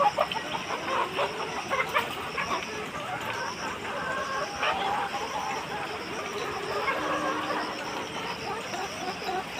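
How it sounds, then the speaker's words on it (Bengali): Dense chatter of many chickens clucking together inside a poultry farm shed in the morning, a continuous busy hubbub of overlapping clucks with no single bird standing out. "অনেক মুরগি আছে"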